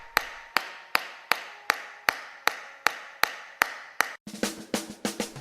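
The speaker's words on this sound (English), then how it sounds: "the screen remained fully protected, even when hit repeatedly with a hammer" A hammer strikes a protected phone screen again and again in a steady rhythm of about a dozen sharp, close knocks, the last few landing faster and with a harder, rattling edge.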